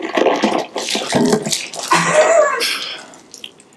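Water splashes and sloshes as a balloon rips while being forced into a bottle opening, a loud burst of wet spattering and dripping followed by a quieter trickle.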